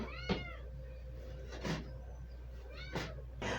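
A cat meows four times in separate, fairly loud calls spaced a second or more apart, over a low steady hum with no talking.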